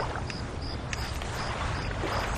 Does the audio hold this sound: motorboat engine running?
yes